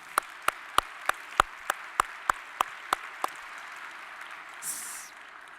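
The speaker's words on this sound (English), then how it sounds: "Let's give another round of applause to all our speakers and performers" Slow, evenly spaced claps, about a dozen distinct ones, ring out at the closing ceremony of the Tenth Session of the World Urban Forum, fairly faint and sparse before trailing off into quiet.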